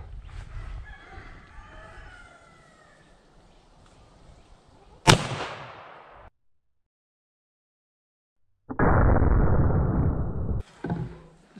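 A Winchester 1873 short-stroke rifle in .32 WCF fires into ballistic gelatin outdoors: one sharp, loud report with a quick decaying tail, then a second loud burst of noise, over faint background birds.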